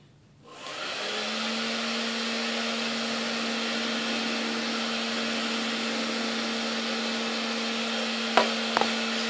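A hair dryer blows steadily for a trickshot with a bouncy ball, a loud continuous whir with a strong steady hum, running alone from start to end with a couple of brief knocks near the finish.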